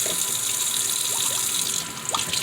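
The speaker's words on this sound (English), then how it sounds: "look at these beautiful tomatoes. I'm going to wash them." Tomatoes being rinsed under a running kitchen tap before home-canned salsa, a steady close splash of water with small shifts as the fruit moves beneath the stream.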